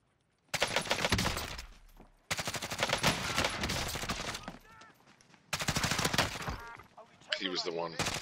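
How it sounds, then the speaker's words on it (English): Video game gunfire aimed at the Juggernaut: three long bursts of rapid automatic fire separated by short gaps, with some electronic game effects near the end. "He's shooting the Jug now."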